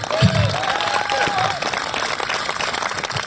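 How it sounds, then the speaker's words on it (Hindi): Audience applause at a Hindi comic poetry recital in Kolkata, a broad wash of clapping from a seated crowd that holds steady for a few seconds, with a faint tone drifting over it. "तालियां बजा दीजिए फिर मैं सुनाता हूं।"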